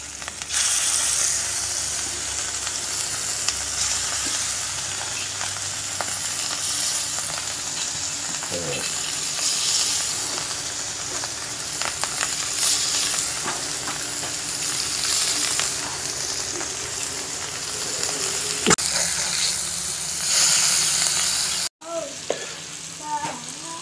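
Surmai (kingfish) pieces fry in hot oil on a tawa, a loud steady sizzle running throughout with occasional sharper crackles, close up and with no one talking over it.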